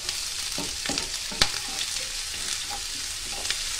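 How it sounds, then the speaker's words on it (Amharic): Onions fry in hot oil for an Ethiopian egg-and-meat dish, a close, steady sizzle with scattered stirring scrapes and one sharp clack of a utensil against the pan. "ዘይታችን ግሏል፣ ሽንኩርታችን እናደርጋለን ማለት ነው።"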